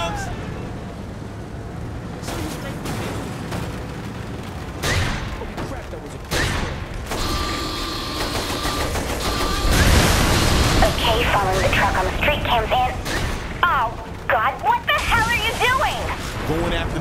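A tank cannon fires and explosions go off in the Saints Row The Third video game: a run of heavy booms and gunfire bursts over rumbling noise that grows louder and denser midway, with voices talking over it.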